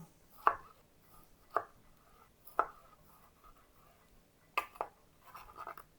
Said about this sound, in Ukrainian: нарізаю помідор